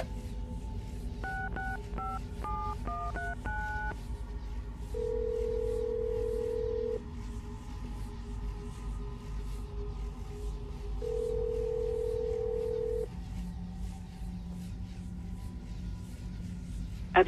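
Keypad tones dialing a phone number in the video game Assassin's Creed Brotherhood: a quick run of short beeps, then longer steady tones with quiet gaps, over a low background hum, with no talk.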